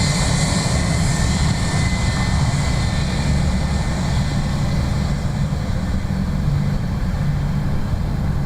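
Jet airplane at Dublin Airport, a loud, steady engine roar sustained throughout without a break, with no voices heard over it.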